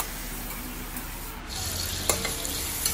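Onions and tomatoes sauté in a pan for a South Indian fish gravy: a low frying hiss at first, then louder stirring scrapes and sizzling, with a couple of sharp utensil knocks and no speech.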